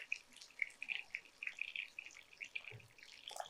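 Water poured into a cooking pan for a fish and radish curry, heard as faint, scattered drips and small splashes through a quiet stretch, with no talking.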